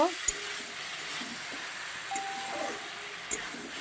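Tengra fish cooking down with turmeric in oil, a soft continuous sizzle at moderate level with a few sharp clinks of a utensil against the pan and a brief tonal hum in the background.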